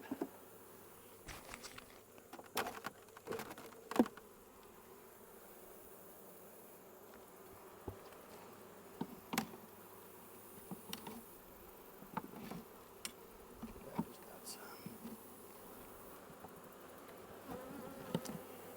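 Honey bees hum softly around hives during a mite-treatment check, a faint, steady buzz broken by scattered close clicks and light taps of handling the boxes.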